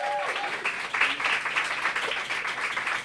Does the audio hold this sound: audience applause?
yes